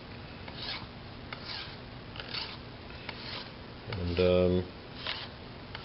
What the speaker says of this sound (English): I'm just going to run the edge down the file a little bit just to clean up that little burr that the cutting process leaves